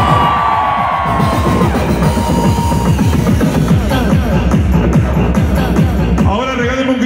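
A large crowd at a fair in Chalco yells and cheers loudly, a dense roar of shouts and whoops with whistles, bangs and music running underneath.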